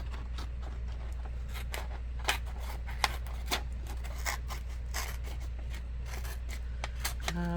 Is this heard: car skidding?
no